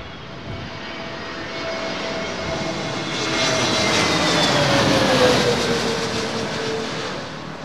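An airliner lands at London Heathrow in high winds, a loud, sustained engine roar and rushing gusts that swell in the middle and hold steady, with no talk.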